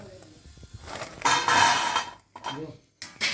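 Hard fried potato fries clatter and rattle in a pan in short bursts, sounding like small stones, while someone speaks nearby.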